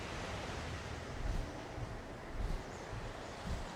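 Ocean waves in the video game Valheim wash in as a continuous broadband surf roar, with soft swells rising and falling roughly every second, steady and moderately loud with no voices.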